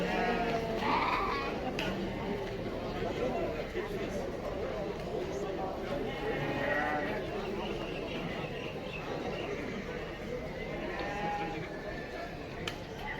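Goats and sheep bleat over and over at the busy Karabulak livestock market, with dense animal calls spread through the whole stretch and constant crowd chatter and voices mixed underneath.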